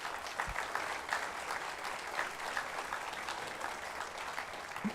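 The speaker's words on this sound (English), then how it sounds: "So round of applause for you guys." A junior high school audience at an eighth-grade band spring concert applauds with a steady, dense wash of clapping that holds evenly for the whole stretch, heard from a distance and fairly quiet.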